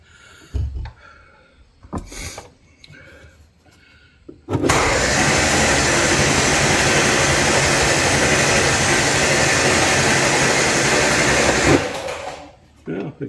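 An MG Midget engine that has sat for 35 years cranks over at length, a loud, steady, buzzing churn of the starter running for about seven seconds without catching, preceded by short clunks and a voice speaking.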